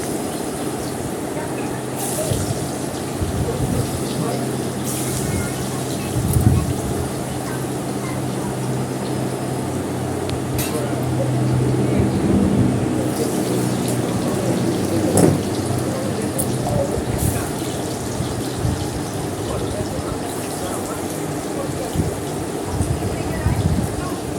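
Sliced potatoes sizzle in hot oil in a home kitchen pan, a dense, steady, rain-like crackle and hiss that holds for the whole stretch with small surges and pops.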